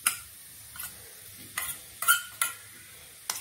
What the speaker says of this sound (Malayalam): നമ്മൾ വഴറ്റി വെച്ച ഉള്ളിയിലേക്ക് തട്ടിയിട്ടുണ്ട് നമുക്ക് എന്നിട്ട് നല്ല രീതിയിൽ ഇളക്കി കൊടുക്കാം